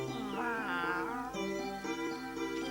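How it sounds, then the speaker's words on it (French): A cat meows in a drawn-out, wavering cry, with a second shorter meow following, close and fairly loud, with no talking. "regarde ce chat, il m'a l'air bien mal en point"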